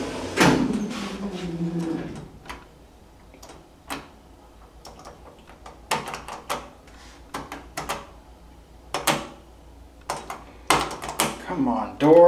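Hydraulic elevator car doors in a building in Concord, Ontario, sliding shut with a series of sharp clicks, ticks and clunks scattered over several seconds, close by and otherwise quiet.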